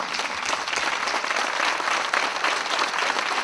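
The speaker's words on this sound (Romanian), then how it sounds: "Aplauze pe care le merită." Loud, dense applause from a crowd for a folk song and dance troupe from Călărași county taking the stage, sustained steadily throughout.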